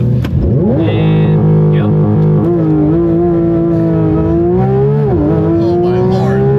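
A Porsche 911 GT3 RS launches hard. Its engine holds one loud, sustained tone that climbs steadily and dips briefly at a gear change before rising again. A person speaks briefly over it.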